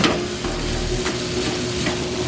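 Paprika and sauce for shakshuka are stirred and scraped across the bottom of a frying pan, with a steady close sizzle and a few scraping strokes, and no talk.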